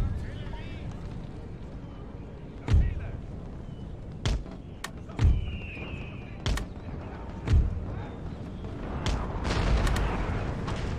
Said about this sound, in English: these cannons on the walls really doing them work